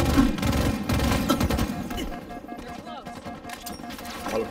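Dense bursts of automatic gunfire in Halo Infinite multiplayer, rapid rattling shots packed tightly together, mixed with game announcer lines and player voices over the top.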